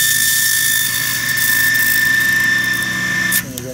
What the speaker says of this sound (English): this is a Wagner texturing tool. It's a knurling wheel.